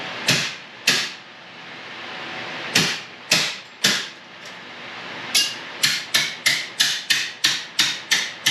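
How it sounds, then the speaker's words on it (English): Sharp metallic hammer strikes on Jeep TJ body metal during rust repair ring out, sparse at first, then settling into a quicker, regular rhythm of about a dozen close, loud blows. "40 minutes to an hour's worth of hammering back and forth"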